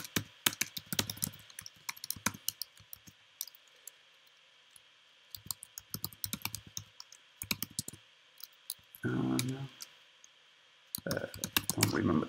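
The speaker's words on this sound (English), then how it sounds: "let's type in my name." Typing a name on a computer keyboard: scattered bursts of close, crisp key clicks with pauses between them, plus a few brief louder sounds that may be voice, fairly quiet overall.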